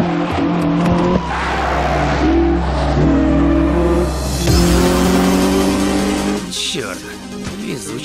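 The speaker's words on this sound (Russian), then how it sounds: "Звук двигателя, раскручивающегося до красной зоны." A race car engine, a Toyota AE86 in an Initial D street race against an EG6, revs hard toward redline, loud and close, its pitch climbing and shifting before a brief tire squeal near the end.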